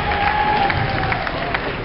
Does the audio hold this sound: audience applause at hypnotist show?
yes